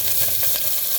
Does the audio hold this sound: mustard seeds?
yes